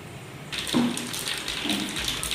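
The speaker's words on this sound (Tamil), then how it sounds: "கடுகு நல்லா பொரியட்டும்." Mustard seeds splutter in hot oil with fennel seeds in a big batch of tomato rice for 100 people. A dense, close crackle and sizzle bursts in suddenly and keeps popping steadily.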